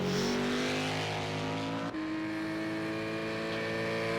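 Porsche race car in a sim-racing endurance series, engine note held loud and steady with clear harmonic whine, shifting up in pitch midway as it revs on, continuous throughout with other cars faintly underneath.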